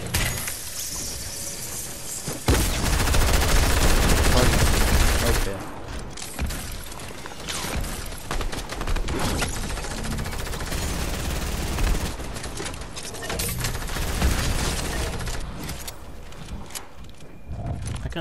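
Fortnite Chapter 2 Season 3 gunfire rattles in repeated bursts, loud and close, with rapid shots and intermittent pauses over a busy game soundscape for the whole stretch.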